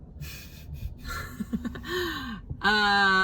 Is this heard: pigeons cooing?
no